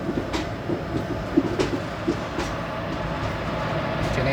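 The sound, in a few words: train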